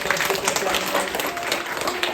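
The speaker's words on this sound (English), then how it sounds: "Let's give my friend a big clap for being brilliant." Children clapping at a library science show, a dense patter of small hands that holds steady throughout, with a few voices mingled into the applause.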